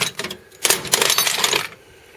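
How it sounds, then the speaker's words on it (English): Metal Craftsman spark plug sockets clatter and clink as they are handled and rummaged through, a bright jangle of steel knocking together in close, busy bursts before fading out. "Bunch of spark plug sockets. Most of the sockets are Craftsman, it would appear."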